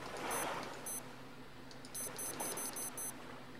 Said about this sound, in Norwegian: Hvorfor piper du, klokke?